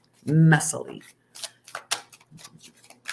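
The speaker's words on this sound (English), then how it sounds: "if I drop cards, they're just dropped cards because I shuffle sometimes messily" Playing cards are riffled and shuffled in quick bursts, starting with a voice and continuing in short snappy flurries.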